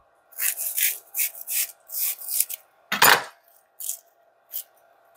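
A knife slices steamed pork belly on a cutting board in a series of short scraping strokes, close and clear, with one heavier thud near the middle and quieter cuts after.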